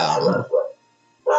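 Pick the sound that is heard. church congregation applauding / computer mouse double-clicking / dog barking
dog barking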